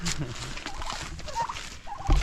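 Turkeys gobble on an off-grid homestead in fall, a few short calls rising over a busy outdoor background, with a louder low thump near the end.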